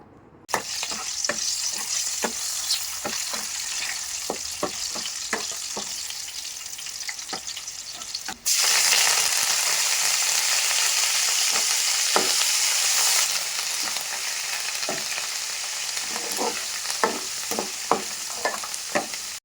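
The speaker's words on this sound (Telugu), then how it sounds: "ఇదే ఆయిల్లో ఒక ఐదు లేదా ఆరు వరకు పచ్చిమిర్చి ఒక రెండు రెబ్బల వరకు కరివేపాకు కొంచెం కొత్తిమీర కూడా వేసి లైట్గా ఫ్రై చేసుకుందాము" Green chilies, curry leaves and coriander frying in oil left over from frying fish, a bright crackling sizzle broken by repeated scraping stirs, swelling into a louder, denser hiss midway before settling back to sizzling with taps of the spatula.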